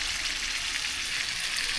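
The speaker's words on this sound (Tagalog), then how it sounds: "Parang piniprito lang." Chicken adobo sizzles and fries steadily in a hot pan, a continuous close crackling hiss with no talk over it.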